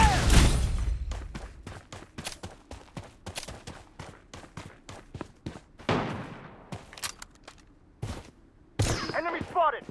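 Rapid, loud bursts of close-range gunfire from the shooter video game Blood Strike, some shots in quick strings and others spaced out, with a short voice callout near the end.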